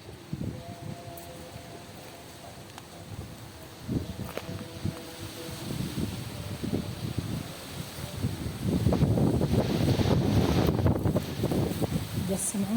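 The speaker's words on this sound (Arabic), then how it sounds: "تسمعون صوت الهواء؟ الهواء كلش عالي" Strong wind blows through the Jamkaran garden, a steady rushing roar that swells louder toward the end, with rustling and a voice talking underneath.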